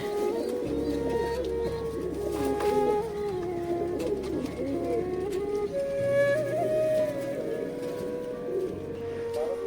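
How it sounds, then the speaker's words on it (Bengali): Fancy pigeons at a farm in Purba Medinipur coo in low, overlapping rolls that go on steadily throughout, with faint chirps now and then and no clear speech. "দেখুন কবুতরকে ছেড়েছি, খুব কবুতর মজায় আছে।"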